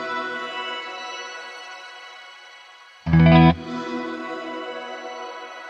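Electric guitar played through a Line 6 HX shimmer reverb in luster mode, turned up in the mix: a wide, swelling wash of sustained tone with a brief louder strummed burst in the middle, then a lingering shimmering tail.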